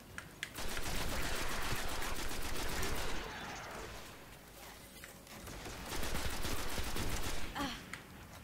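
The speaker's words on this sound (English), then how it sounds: "just put a grenade between them" Dense automatic gunfire and loud blasts in the video game Destiny, a long close barrage of rapid shots that eases briefly in the middle and then resumes at full intensity.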